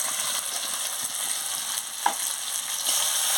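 Spices with salt and chili powder frying alongside potato and pointed gourd, a continuous close sizzle with occasional light stirring clicks and one sharper tap near the middle.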